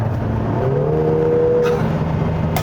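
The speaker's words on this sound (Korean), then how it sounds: "이 바로 뒤에서 들려오는 이 엔진의 소리가 굉장히 크기 때문에" A Lotus Emira's 2.0 turbo engine drones loudly from close behind while driving, its pitch climbing steadily as the revs build, over continuous road noise.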